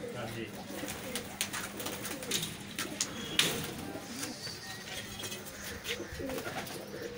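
Pigeons on a rooftop at a pigeon-flying tournament near Daska Road, Sialkot, coo in soft repeated phrases while faint voices talk in the background and outdoor ambience continues.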